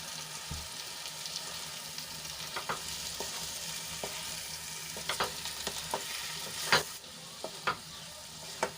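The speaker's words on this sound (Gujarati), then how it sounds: "હવે એમાં આપણે રીંગણ એડ કરી લઈશું અને ગ્રેવીમાં સરસ રીતે મિક્સ કરી લઈશું" Eggplant pieces stirred into a sizzling masala gravy in a pan, a steady loud frying hiss broken by repeated clicks and scrapes of the spoon against the pan, no voices.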